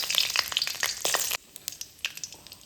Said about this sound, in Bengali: খুব ভালোভাবে গোটা মশলাগুলোকে ঘিয়ের সাথে ভেজে নেব